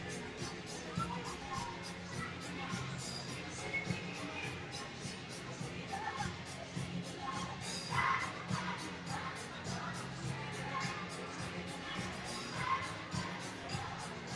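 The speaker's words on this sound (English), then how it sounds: "Decent crowd here tonight" A crowd fills the rink at a varsity ice hockey game with a steady, distant murmur that swells now and then into brief cheers and shouts. Scattered voices blend into the din.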